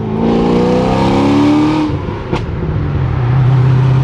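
A red Corvette Z06 with a stage 3 big cam revs hard up through the gears, a loud, close engine roar with a sharp crackle between shifts, then a deep burbling idle that swells again.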